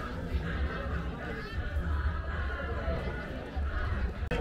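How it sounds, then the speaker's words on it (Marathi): Dense crowd at the Raigad fort coronation anniversary celebration, a constant loud hubbub of many voices with chatter and occasional laughter filling the space throughout. "पुढे बघा किती गर्दी"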